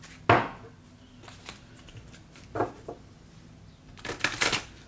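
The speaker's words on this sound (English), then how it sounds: "Let's see if I can shuffle. These cards are a little stiff." Stiff tarot cards riffled and shuffled in a few separate bursts, crisp papery snaps with quiet gaps between, close and fairly loud.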